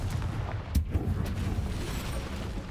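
Bombarda and Confringo blasting spells go off in Hogwarts Legacy, producing a rumbling, booming burst with a couple of sharp cracks over a dense low roar, loud and sustained.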